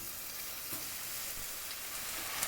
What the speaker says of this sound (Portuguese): Aqui eu já coloquei o óleo na panela e vou fritar a carne